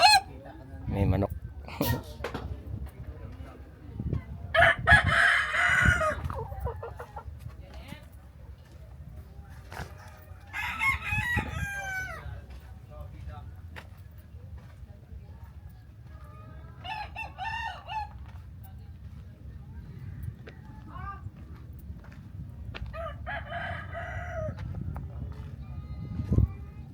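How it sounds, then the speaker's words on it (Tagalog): Chickens cluck and a rooster crows repeatedly at a dried-fish drying area, the calls coming in short bursts at a moderate distance while people talk nearby. "May manok."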